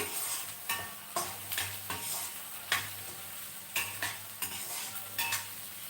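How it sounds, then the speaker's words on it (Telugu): Vegetables for a cauliflower curry fry in a pan until browned, making a close, steady sizzle broken by regular scraping strokes of a spoon against the pan, with no voices. "ఇది బ్రౌన్ కలర్ వచ్చే వరకు వేయించాలి కదా"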